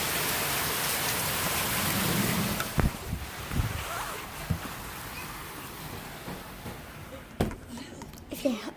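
Heavy rain pouring down outside during a storm in Oklahoma, a steady dense hiss that eases slightly partway through, with scattered close drips and knocks on surfaces.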